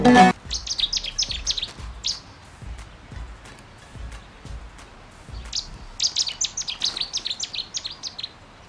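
Bursts of bright, rapid bird chirping outdoors, a quick twittering run at the start and another dense flurry later, with soft low thumps between.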